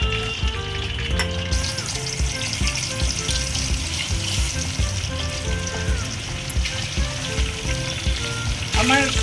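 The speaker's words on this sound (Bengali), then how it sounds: "এবার আমি নেক্সট সেটটা ঠিক এরমভাবেই ভেজে নেবো" Vetki fish bones fry in hot oil with a steady, dense sizzle and crackle that holds at an even loudness throughout, close by, with faint stirring scrapes and no talk.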